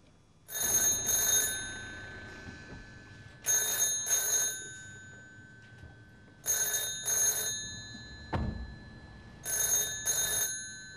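A telephone rings in four evenly spaced double bursts of bright electronic bell tone, with a short thump between rings.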